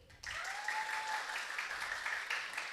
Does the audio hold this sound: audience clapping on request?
yes